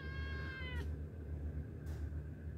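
A cat gives one drawn-out, falling meow while being fed on a mountainside, faint and close over a low steady hum, followed by quiet rustling and no speech.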